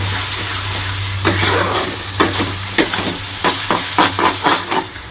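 Masala and meat frying in a pan, a close sizzle with a low hum at first, then a run of rhythmic scraping stirs that grow more frequent toward the end.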